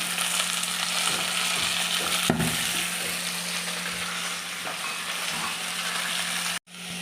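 Mint leaves frying in the pan for a mutton gravy, a continuous sizzle with occasional stirring scrapes and a sharp utensil knock near the end.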